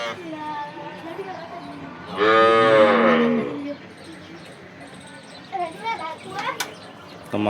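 Kathiyawadi cows at a cattle market, one giving a loud, drawn-out moo of about a second and a half, with children's voices and people talking nearby throughout and faint birdsong.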